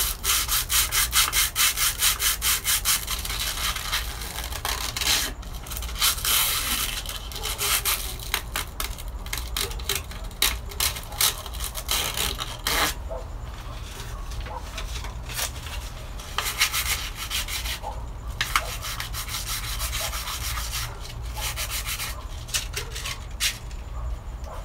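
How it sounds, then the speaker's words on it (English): Sandpaper roughing up a surface before cutting, a steady scratchy rubbing in quick back-and-forth strokes, loud and close with no voices. "take some sandpaper, kind of rough it up where you're going to cut it"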